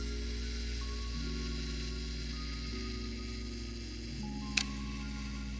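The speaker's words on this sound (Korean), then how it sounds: "레버 감고 초점 잡고 이렇게 셔터를 눌러주시면" A Minolta Hi-Matic 7s II film camera's self-timer runs with a quiet, steady mechanical whir that shifts pitch in a few stepped stages, then ends in a brief sharp click near the end.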